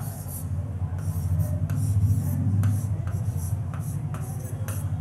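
Writing during a classroom lesson, close and fairly loud, with repeated scratchy strokes in short bursts against a steady low background hum.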